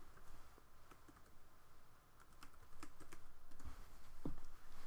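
Someone types on a computer keyboard while working in AutoCAD, with quick, soft, irregular keystroke clicks close by against a quiet background.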